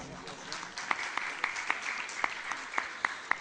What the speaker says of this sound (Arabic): صفقوا صفقوا.